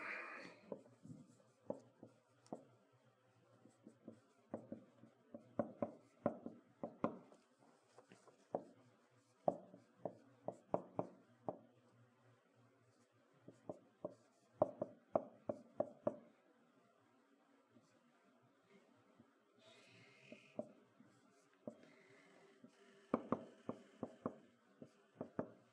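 Marker or chalk writing on a board during a heat transfer lecture, with quick clustered strokes and taps in bursts and pauses, fairly faint, with no talk.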